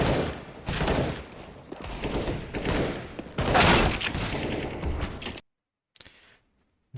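Pistol gunfire in a first-person shooter, heard as a dense run of sharp shots in clustered bursts that fill most of the stretch, then cut off abruptly into near silence with one faint tick near the end.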